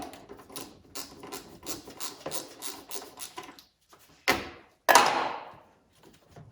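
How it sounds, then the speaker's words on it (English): A wrench works a bolt on the air intake of a 6.1 HEMI engine, giving a run of quick close ratcheting clicks followed by a couple of louder metallic clunks and scrapes. "So we're going to use our wrench."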